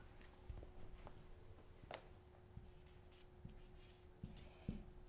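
A pen or marker scratches across a board in short, faint strokes with small taps between them, heard close in a quiet room.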